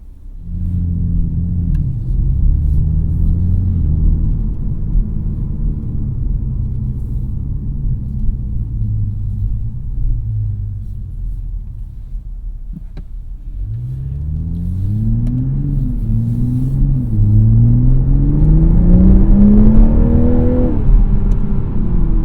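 A 2021 Toyota Supra with the 3.0 engine booms from inside the cabin on a test drive, with a low steady rumble under way, then a surge of revs that climbs in rising sweeps as it accelerates hard. It is loud and close, with no talking.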